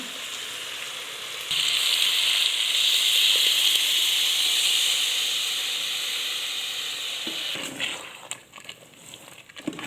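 A ground paste of onion, tomato and spices hits hot oil in a pan with a sudden loud sizzle, then fries with a steady bright hiss that slowly fades as stirring and clinks start near the end.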